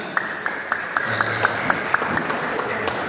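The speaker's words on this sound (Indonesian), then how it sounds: "Tepuk tangan yang semangat." An audience claps at a Hajj pilgrim guidance group's thanksgiving and opening ceremony in Adiwerna, Tegal, with sharp claps landing in a steady, evenly spaced beat over a low crowd murmur.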